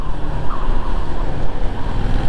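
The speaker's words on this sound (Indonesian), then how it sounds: "Dengeran dari knalpotnya beda anjir, 1000 cc mah." Big 1000 cc motorcycles roar past on a road on a ride from Bogor to Ujung Genteng, with loud, continuous, dense exhaust and traffic noise mixed with wind rush throughout.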